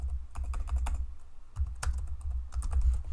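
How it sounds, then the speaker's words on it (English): Fingers type on a computer keyboard in a quick, uneven run of close key clicks, with a short pause partway through before the tapping resumes. "my typing is terrible today"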